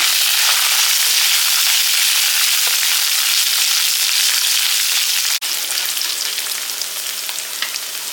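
Garlic, tamarind and dried chillies sauté in a pan with a loud, continuous hissing sizzle that holds steady throughout, one sharp click near the middle.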